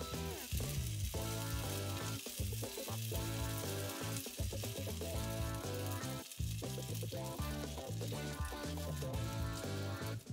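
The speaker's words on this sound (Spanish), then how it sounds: "Engrasamos una sartén caliente y añadimos unos cazos de la mezcla." Vegan Osaka-style okonomiyaki batter frying in a hot greased pan over medium-low heat, a soft continuous sizzle sitting under prominent background music.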